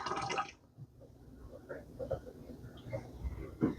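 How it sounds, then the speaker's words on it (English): Water is poured out of a hot glass canning jar lifted from a pressure canner during home canning, a soft brief splash and trickle heard faintly at close range. "Do the same process of grabbing a jar from the canner, pouring the water out."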